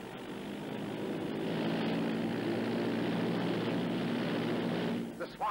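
A propeller-driven liaison airplane drones steadily as it flies in to land, a loud, sustained engine roar from an old 1942 film soundtrack that cuts off abruptly near the end.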